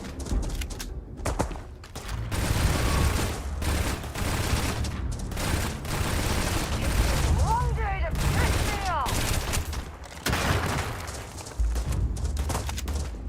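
Dense gunfire from the Starfield video game rattles in bursts and sustained volleys over a clanking mechanism, with a voice talking over the shooting.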